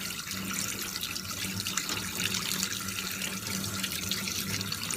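A kitchen tap runs steadily while flying fish are rinsed under the stream, producing a continuous close splash of water in a sink.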